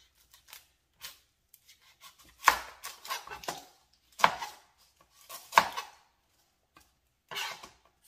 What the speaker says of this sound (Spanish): Vamos a picar la cebolla.